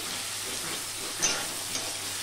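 Garlic and onion for ghugni fry in a pan with a steady, dense sizzle throughout and a couple of faint stirring knocks, close and continuous without any talking.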